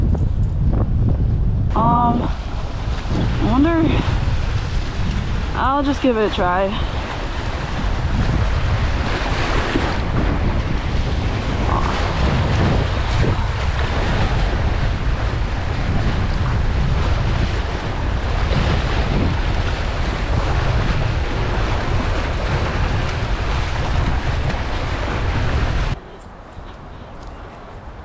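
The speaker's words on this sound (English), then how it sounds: "Oh, it's windy." Strong wind buffets the microphone on a rough Bermuda shoreline, with surf washing in behind it. A gusty, roaring rush runs nearly the whole time, someone talks briefly over it, and it cuts off abruptly near the end.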